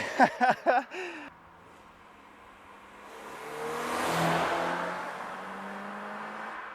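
A few quick voice bursts, then a Toyota GR86 with a JDL UEL header and stock catback revs from a distance, swelling louder as it passes and fading away.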